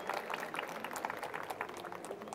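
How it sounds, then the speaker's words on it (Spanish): An audience applauds for the speaker León at a talk, a steady wash of many hands clapping that carries evenly for the whole stretch, with no one speaking over it. "les pido un muy fuerte aplauso para León"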